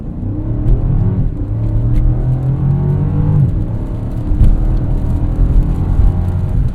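A new BMW M5 launches hard from a standstill, its engine roaring loudly and steadily as it pulls through the gears, with a close, continuous rumble and no talking.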